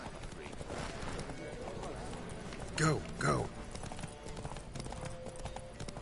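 Race horses in The Witcher 3 clip-clopping in a steady galloping rhythm, close and loud, with riders shouting over the hoofbeats and one short rider's cry that rises above the rest.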